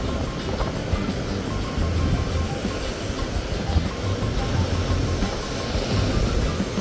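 Big ocean surf at a coastal conservation area, a continuous loud roar of breaking waves with rumbling swells, heard up close with no talking.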